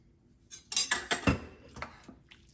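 Metal spoon stirring ham into white beans in a slow cooker, a few clinking scrapes against the crock in quick succession, close and fairly quiet.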